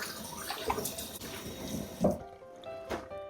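Hot water runs from a tap at a campsite washing-up area, a close, splashing stream that cuts off partway through, leaving faint background noise.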